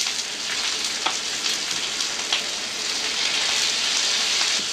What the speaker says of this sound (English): My favorite way of doing moose is fried up in little chunks.